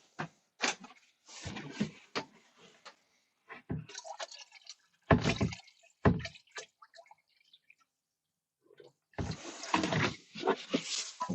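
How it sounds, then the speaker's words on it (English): Water poured from a sterilised container into a home-distilling fermenter, topping it up toward 25 litres: irregular bursts of splashing and trickling with pauses between pours, close and moderately loud, no talk. "I need to top that up with a bit more water."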